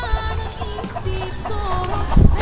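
Chickens clucking nearby on a small farm, a flock giving repeated short clucks and murmurs in an uneven rhythm, fairly close with light background noise.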